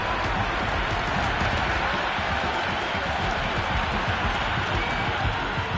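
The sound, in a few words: cricket crowd cheering a six at India vs Australia match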